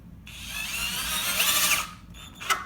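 A Harbor Freight 18V cheap cordless drill drives 1 to 1 1/4 inch screws, a steady high motor whine for about a second and a half, then it stops and a brief clicking spin-up follows, close and loud with no talk.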